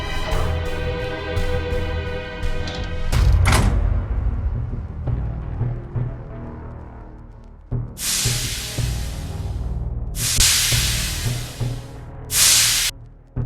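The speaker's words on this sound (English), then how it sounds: "A broken pipe. Steam is leaking." Steam hisses from a broken pipe in the video game AI The Somnium Files. Loud bursts of broad hiss, three of them, come in after a stretch of game sound and tones.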